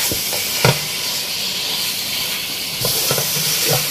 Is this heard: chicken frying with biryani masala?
yes